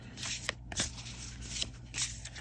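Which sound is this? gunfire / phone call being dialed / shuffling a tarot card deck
shuffling a tarot card deck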